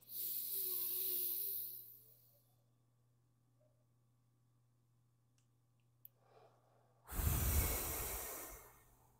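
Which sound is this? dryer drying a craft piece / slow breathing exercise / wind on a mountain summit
slow breathing exercise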